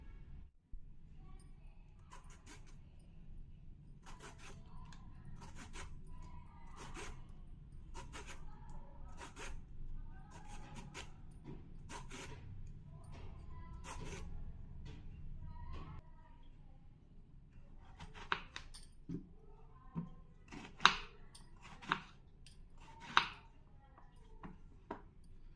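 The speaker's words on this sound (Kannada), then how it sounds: "ಒಂದು ಸೋರೆಕಾಯಿ ತೊಗೊಂಡಿದ್ದೀನಿ. ನೀಟಾಗಿ ಅದನ್ನು ಕಟ್ ಮಾಡ್ಕೊಳ್ತೀನಿ." Knife work on a bottle gourd being cut and peeled for a vegetarian dish, giving a series of sharp close taps and scraping strokes, with a few louder cuts toward the end over low kitchen background noise.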